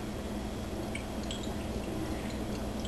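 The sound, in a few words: water poured into pan for bread pudding water bath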